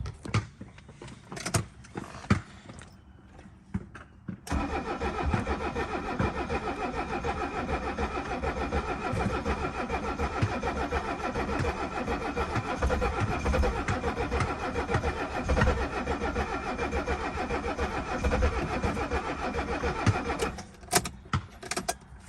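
A 1976 Mercedes-Benz 300D diesel, fresh battery fitted, cranks and catches, settling into a loud, steady, clattering idle after a few seconds of starter whir, with a small click or jingle near the start.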